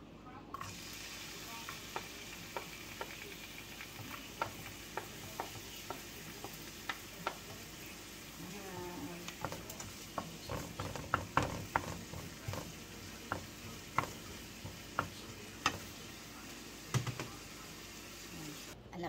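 Onions and garlic sauté in oil in a home kitchen pan for a vegetable soup, a soft steady sizzle beneath frequent sharp clicks and scraping stirs, fairly quiet, with a television and occasional speech faintly in the background.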